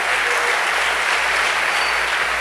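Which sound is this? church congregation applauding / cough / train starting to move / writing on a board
church congregation applauding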